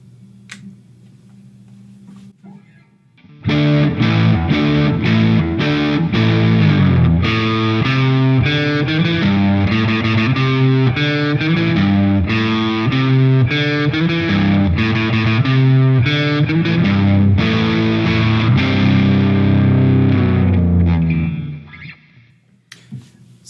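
A 2005 Gibson Les Paul Custom Jimmy Page Number One plays loud, distorted chords through both pickups, with steady rhythmic strumming that runs for about eighteen seconds before ringing out and stopping. No one speaks.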